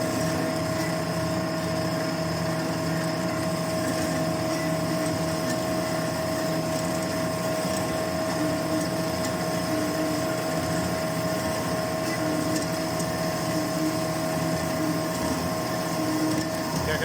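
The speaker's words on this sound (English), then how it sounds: "here's the first little cuts on my 70-year-old horizontal bandsaw" A 70-year-old European horizontal bandsaw makes its first small cuts in metal with a continuous, even mechanical whir and a bright hiss of blade on steel, loud and unbroken throughout.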